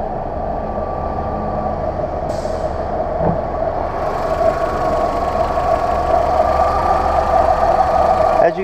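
A 2005 Volkswagen Jetta sedan engine idles with a steady low hum and faint mechanical whine, continuous and close, with no speech.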